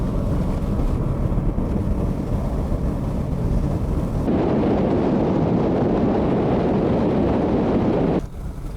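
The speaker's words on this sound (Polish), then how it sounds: "jedziemy sobie teraz taką betonówką starą tutaj znowu w tym miejscu" A vehicle drives along an old concrete road in the countryside, giving a steady loud rumble of tyres and engine with heavy wind buffeting. The road noise grows rougher and brighter midway, then drops off near the end.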